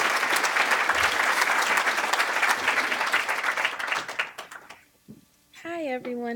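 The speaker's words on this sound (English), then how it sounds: "May we have another round of applause for these excellent students in our department" Steady applause from the audience at a student leadership awards banquet rolls for about four seconds, then fades out as a speaker begins talking.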